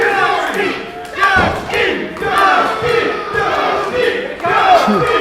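A wrestling crowd at a match between Dusty McWilliams and J-Money shouts and cheers loudly in rolling waves, dense and close, with a few thumps mixed in.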